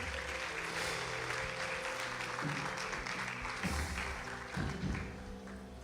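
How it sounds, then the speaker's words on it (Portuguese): A church congregation clapping in praise to the Lord, a steady, fairly faint patter of many hands under low background tones, with a few heavier thumps near the end. "Tome o seu lugar aplaudindo ao Senhor."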